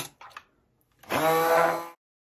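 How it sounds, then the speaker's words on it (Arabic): A hand blender whisks eggs with olive oil and vinegar in a loud, steady electric whir lasting about a second, heard alone after a few faint knocks. "نضربهم كويس جدا بالهاند بلندر لحد ما القوام بتاعهم يبقى سايل وناعم"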